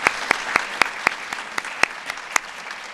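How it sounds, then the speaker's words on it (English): Audience applause at a Mother's Day tea honoring military moms, a steady wash of clapping with sharp individual claps standing out, fairly close and without talk. "we have to give her a round of applause."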